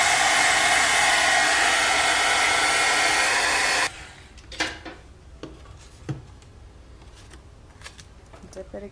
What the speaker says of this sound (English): I'm trying to get it with my heat tool,